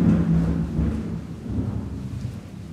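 Thunderstorm with a deep rolling rumble of thunder over steady rain, loudest at the start and fading slightly, with no voices.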